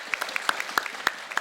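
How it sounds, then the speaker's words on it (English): Audience clapping at a live game panel for Rainbow Six: Siege, a dense run of handclaps with sharper individual claps standing out, steady and moderately loud with no voices. "Give a round of applause for these guys because they are awesome."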